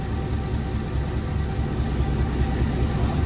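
A dump truck engine idles steadily with no cooling fan running, a loud, close, continuous low rumble with no breaks throughout.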